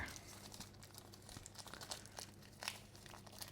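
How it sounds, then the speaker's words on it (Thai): Tough plastic packaging for an Olight Javelot Tac P gun-mounted flashlight is torn open up close, giving quiet, continuous crinkling and scattered sharp rips, with no talk. "ถ้าผมลองฉีกออกมาก่อนนะครับ ซองเหนียวมากเลยเนาะ"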